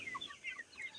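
Sonali hybrid chickens on a poultry farm give a brief, faint burst of high clucking and chirping calls, with no other sound around them.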